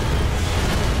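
In the game Far Cry Blood Dragon, a fireworks explosion erupts as a loud, dense, sustained roar that fills the whole moment with a rumbling blast and no voices.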